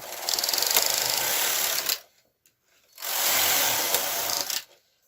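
A domestic knitting machine carriage knitting rows of a spiral sock makes two loud, even mechanical rasping passes, each nearly two seconds long, separated by a short silence with a couple of faint clicks.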